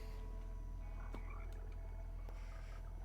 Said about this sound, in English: Love to hear the little froggies.